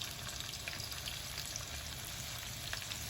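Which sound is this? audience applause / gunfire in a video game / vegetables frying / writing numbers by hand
vegetables frying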